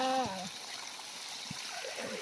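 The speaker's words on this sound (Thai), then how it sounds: "ทำงานแสงอาทิตย์น้ำไหลดีจ้ะ" Water runs from a solar-powered pump in a steady, moderately loud stream with some splashing. A short voiced tone sounds at the very start, then the water continues alone.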